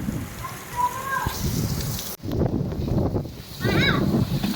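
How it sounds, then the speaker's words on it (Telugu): Steady heavy rain pours down in Hyderabad under loud gusts of wind, with people talking over the downpour throughout. "ఫుల్ హెవీగా ఉంది రైన్ అయితే రానా ఫుల్ హెవీ ఉంది రైన్"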